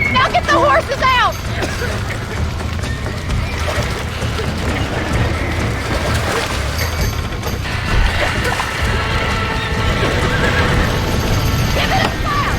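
Horses whinny and hooves clop in Red Dead Redemption (Enhanced) on Xbox, a loud neigh near the start followed by continuous hoofbeats and game ambience, with people talking over it.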